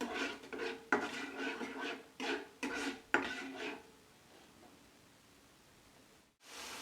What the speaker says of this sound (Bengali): এটা আমি 3 থেকে 4 মিনিট ভালোভাবে কষিয়ে নেব, যতক্ষণ না তেল ছেড়ে আসছে মশলা থেকে